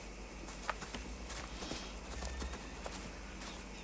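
Horse hooves clip-clop at a steady walking pace in Red Dead Redemption 2, a close, even rhythm of soft thuds over faint ambient background.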